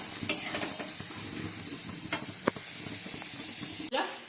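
Beans, carrots and onions fry in a pan for chira pulao with a loud, continuous sizzle and hiss. Occasional clicks of stirring sound close by before the frying noise drops away at the end.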